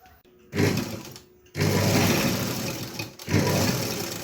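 A sewing machine stitches a window screen for a Maruti Suzuki Eeco car, running in three loud, close bursts of steady rapid whirring with short pauses between them.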